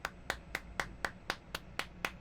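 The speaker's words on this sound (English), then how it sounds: "those claps pop up really loud and clear on the audio wavelength during the edit" Nine sharp hand claps spaced about a quarter second apart in a steady rhythm, close and crisp in a quiet room.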